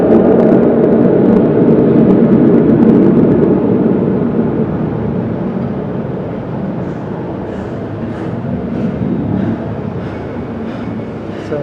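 A Chinook helicopter approaches near Okinawa's airport as a heavy, dense rumble, loud at first and slowly thinning, with faint rhythmic rotor pulses coming through toward the end and no talking.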